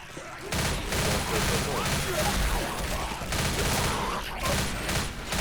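Rapid gunfire bursts from a shooting video game, loud and nearly continuous with brief gaps, mixed with players talking.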